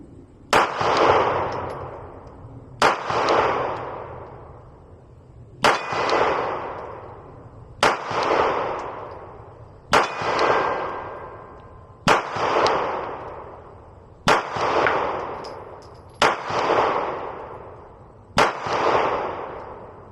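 Ten sharp pistol shots from a Glock with a stiff trigger, fired at a target outdoors in an even, unhurried rhythm, each report loud and close with a long decaying echo, and no talking in between.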